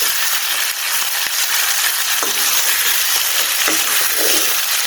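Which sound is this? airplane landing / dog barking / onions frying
onions frying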